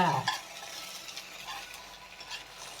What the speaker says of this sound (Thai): ขนมครกเราข้างล่าง แล้วก็จะพลิกมาเลยค่ะ